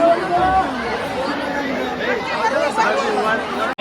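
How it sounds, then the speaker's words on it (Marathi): A dense crowd chatters continuously at a goddess temple, the babble of many overlapping voices filling the space at close range with no pause. "बेकार गर्दी आहे गारे पॅक झालं आहे बघा"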